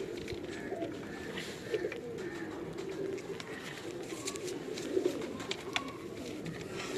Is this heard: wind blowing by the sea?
no